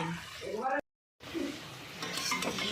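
Green pea fritters fry in oil with a soft sizzle broken by a brief gap, while utensils scrape and tap the pan; a voice talks briefly near the start.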